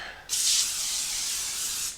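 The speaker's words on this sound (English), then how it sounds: "We're going to lightly spray it with some cooking spray, whatever you have." Cooking spray hisses from a can onto a foil-lined baking pan in a single steady burst of about two seconds, close and loud, starting abruptly.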